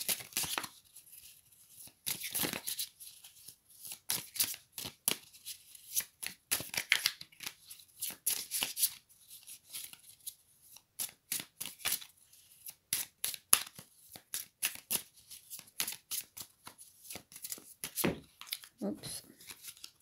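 Affirmation cards are shuffled and drawn by hand, producing irregular bursts of papery riffling and flicking with short pauses, close and fairly quiet.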